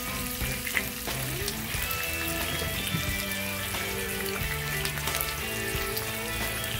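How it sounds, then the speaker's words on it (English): Bacon frying on a griddle during a breakfast cook, a continuous close sizzle and crackle with scattered pops that holds steady throughout, with no voices. "Gotta let that bacon fat get on there, season the grill for us."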